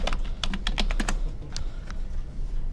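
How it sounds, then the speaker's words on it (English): Typing on a computer keyboard at close range, with quick bursts of crisp key clicks, a short pause, then a few more scattered strokes. "until I'm typing it out"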